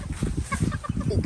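Backyard chickens clucking near the keeper during a flock check, a short busy run of soft clucks and chatter close by.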